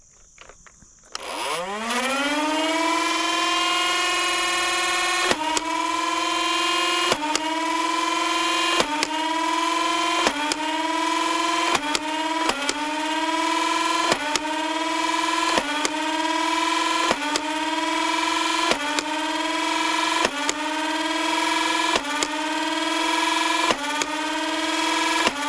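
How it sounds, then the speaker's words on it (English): Dart Zone AF Pro foam-dart blasters spin up with a sustained motor whine, then fire at a target in about a dozen evenly spaced, sharp shots over the steady hum. "We have our AF Pros and we're gonna be shooting them at the target."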